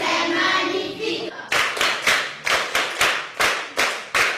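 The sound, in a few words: schoolchildren applauding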